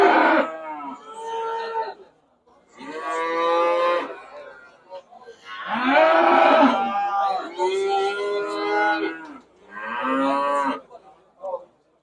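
Cattle at a livestock market in Kyzylorda give several long, loud moos in close succession, each call drawn out with short pauses between.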